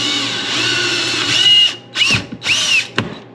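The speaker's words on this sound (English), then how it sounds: "All right, drill, wanna go about right here." Power drill boring holes to fit a rubber auger on a Toro Power Clear 180 snowblower: a sustained loud whine for about 1.7 seconds, then two shorter revving bursts and a sharp click at the end.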